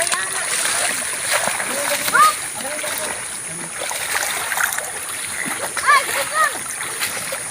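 Flood water splashing and sloshing during a typhoon, irregular wet splashes close by under a continuous background rush, with people talking throughout.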